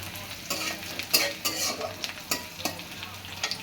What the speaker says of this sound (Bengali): প্রথমে মরিচ পেঁয়াজ দিয়ে একটু নাড়াচাড়া করে নিতে হবে।